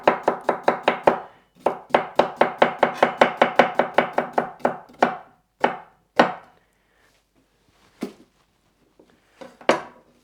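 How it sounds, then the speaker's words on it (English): A knife slices cucumber on a cutting board for a salad. A fast, even run of crisp chops gives way to slower, scattered cuts that trail off near the end. "Let's do some cucumber. So I'm gonna do some slices for my salad."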